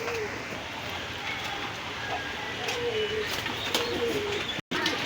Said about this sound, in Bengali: পিরিসপুরি কবুতর।